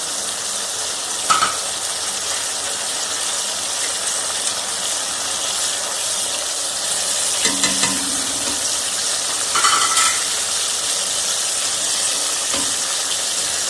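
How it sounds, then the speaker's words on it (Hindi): Masala with salt, chili and tomatoes frying for moong dal, a loud constant sizzle with occasional spoon scrapes and stirring clatter, close by and without speech. "मसाला बस मैंने अच्छी तरह भूनना है, तब जाके हमारी मूंग की दाल तैयार होगी।"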